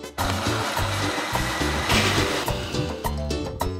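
A blender grinds cooked tomatoes with their broth for tomato soup, a loud, steady motor whir with churning, uneven chopping pulses close by.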